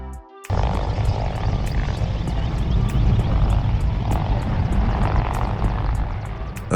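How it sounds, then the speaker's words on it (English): A Black Hawk multi-role military helicopter, adapted for firefighting with an external water bucket, roars steadily and loudly overhead, its rotor pulsing in an even, rapid beat throughout. "a multi-role military helicopter adaptable for firefighting missions with external water buckets"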